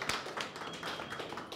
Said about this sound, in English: Big round of applause. Everybody, round of applause for the